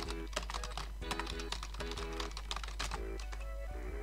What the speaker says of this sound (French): écoute comment je tape vite sur le clavier